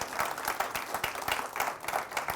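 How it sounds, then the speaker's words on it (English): Applause from an audience at an awards event for brands loved by women, moderately loud and steady throughout, with scattered individual claps standing out in the wash of clapping. "that deserves a round of applause"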